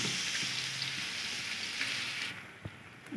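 Ginger-garlic paste frying with onions in a pan for beef pulao, giving a steady, fairly quiet sizzle that runs alone throughout, with a few faint clinks near the end.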